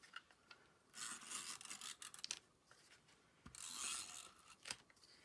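A tape runner lays down crafter's tape in two quiet, rasping strokes, with faint rubbing and clicks between them.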